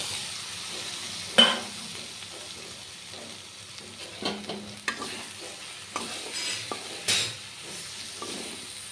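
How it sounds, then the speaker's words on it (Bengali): Fish dropped into spiced masala frying in oil give a soft, steady sizzle, broken by scattered stirring scrapes and clinks of a utensil against the pan, fairly close and quiet. "দেখুন মশলাটা কষানো হয়ে গেছে, এবার আমি মাছগুলো দিয়ে দেব।"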